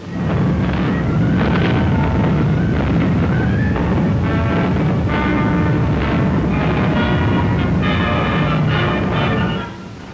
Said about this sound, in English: opening up with a bombardment